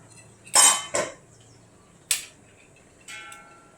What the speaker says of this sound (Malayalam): നമുക്കിത് ഇപ്പുറത്ത് ചട്ടിക്കകത്ത് പകർത്തി കൊടുക്കാൻ കേട്ടോ.